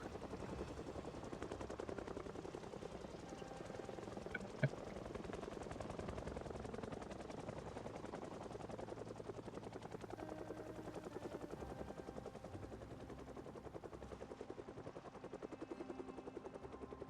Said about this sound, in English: Probably a helicopter sound is actually south of us